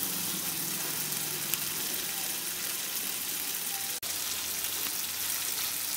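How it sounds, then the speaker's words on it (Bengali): Fried hilsa fish head with spices sizzles steadily in a pan, a constant loud hiss of hot oil with one faint clink partway through and no talking. "এবারে এটাকে মশলার সাথে আমি 2 থেকে 3 মিনিট একটু ফ্রাই করছি।"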